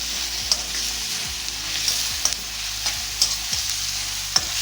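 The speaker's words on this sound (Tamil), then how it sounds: "இப்படியே கொஞ்சம் நேரம் ஒரு 2 நிமிஷம் 3 நிமிஷம் இப்படியே வதக்கிட்டே இருங்க" Onions sautéing in a pan over medium heat for a prawn thokku, a steady sizzle broken by light stirring clicks and scrapes at irregular intervals, close and alone with no talk.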